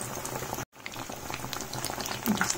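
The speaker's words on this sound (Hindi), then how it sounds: "इसको अब गोल्डन ब्राउन होने तक हम फ्राई कर लेंगे।" Bread pakora deep frying in hot oil on a high flame, a steady close bubbling sizzle broken by a brief dropout of near silence, with scattered pops and spits.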